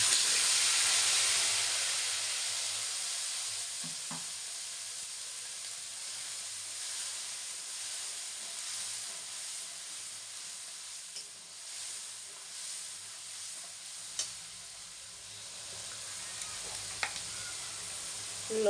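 A paste of ginger, garlic, onion and cumin fries with meat in a pan, giving a steady close sizzle that eases slightly over time, with a few light clinks of stirring.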